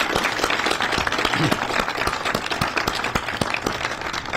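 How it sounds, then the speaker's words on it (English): An audience at a Salt Lake City press conference gives a round of applause, sustained, evenly textured clapping from a sizable room of people, moderately loud and unbroken. "I think that deserves a round of applause"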